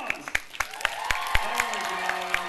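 An audience at a furry convention fursuit dance competition claps for a dancer, scattered sharp claps rising into brief applause with a crowd murmur and a faint tone in the room.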